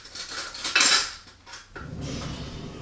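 A spoon stirs dish soap into water in a container, giving a few close clinks and scrapes against the sides and then a softer swirling, sloshing sound.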